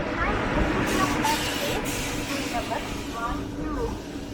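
The Alappuzha–Kannur Executive Express rolls into Shoranur station with a continuous rumbling, hissing clatter of wheels and carriages. Voices murmur faintly beneath the train noise.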